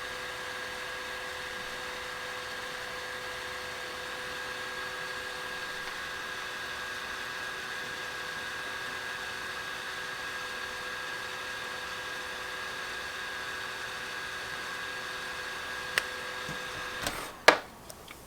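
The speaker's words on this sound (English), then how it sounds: "Nothing coming up on the screen, just fan noise." Cooling fan running in an old broken 14-inch iBook G4 laptop: a steady, faint whirring hum with a thin tonal whine, continuous, then a few sharp clicks and knocks near the end, no talking.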